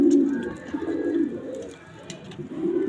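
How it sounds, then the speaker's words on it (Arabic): Domestic pigeons cooing at close range in a pigeon loft, a steady stream of low, throaty rolling coos that swell and fade across the whole stretch with brief softer dips, no voices. "فرجة بسيطة على الحمام بتاعي وعلى طريقة أكله"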